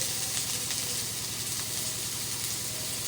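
Crushed garlic, ginger, green chili and spices fry in a pan with a continuous, close hiss and sizzle that holds steady and unbroken throughout.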